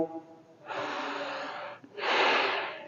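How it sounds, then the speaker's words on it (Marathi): Pranayama yoga breathing: two long, forceful breaths through the nose, loud and close, the second stronger than the first, separated by a brief pause, with a faint voice at the start. "श्वास संपला की पुन्हा नवा श्वास घ्या"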